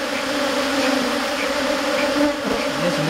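Honeybees swarm around an open top bar hive during an inspection at an agricultural college in Kenya, producing a dense, steady buzz that stays loud and close for the whole moment, with no talking.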